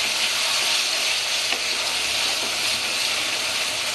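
Small boneless chicken pieces for a Bengali-style curry fry in hot oil with a steady, dense sizzle, close and loud throughout, while a spoon stirs them with faint scraping.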